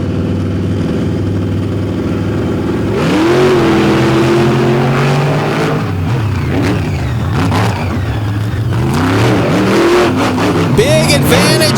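Chevy and Ford monster trucks at a championship series semi-final race roar loudly, engines revving and rising in pitch as they accelerate, with crowd and arena noise around them.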